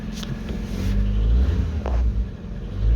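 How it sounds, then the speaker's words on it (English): A Ford Fiesta engine with a blowing exhaust and 94,000 miles idles with a rough, uneven rumble and a puffing, chuffing exhaust note, close and fairly loud, with no talking. "Sounds like the exhaust is blowing."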